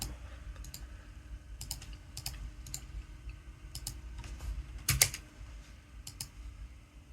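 Someone types on a computer keyboard, a steady stream of light, irregular key clicks with a few sharper taps, fairly quiet against a low room hum.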